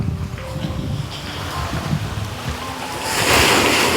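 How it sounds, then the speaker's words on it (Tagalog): Strong sea waves crash and rush close by with heavy wind noise, growing louder and broader toward the end. "Kaya po malakas na yung hagos ng alon"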